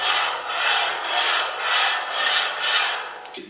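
Straight edge rubbed along a steel tube on a rock crawler chassis build: five even back-and-forth scraping strokes in a steady rhythm, close and moderately loud, ending with a faint tap.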